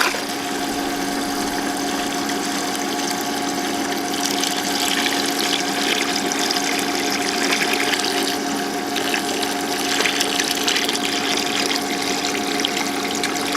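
Water pumped through a pool sand filter into a bucket, a steady continuous rushing and humming flow that holds at a loud level throughout, with no talk.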